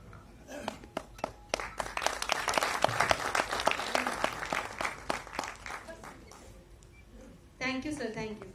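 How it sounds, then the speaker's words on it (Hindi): An audience at a film cast event bursts into loud, sustained clapping that swells and then fades, with a voice speaking over the applause near the end. "अरे एक बार जोरदार तालियां हो जाए"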